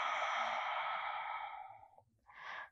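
A long, smooth exhale drawn out during a slow yoga flow, close and soft, fading gradually before a brief second breath follows after a short pause.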